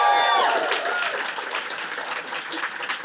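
An audience bursts into applause at a live comedy and talk show, loud and sustained clapping with some cheering at the start, filling the room.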